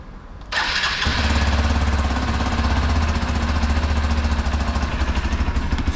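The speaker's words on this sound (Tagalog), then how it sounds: "Painitin ko lang yung motor." A motorcycle engine cranks and catches, then settles into a loud, steady idle with a fast rhythmic pulse as it warms up, close by and alone without talk.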